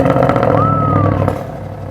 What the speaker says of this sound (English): when you just start the engine,